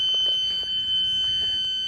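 A car jump starter's high, piercing electronic alarm tone beeps steadily and loudly, with faint background noise underneath.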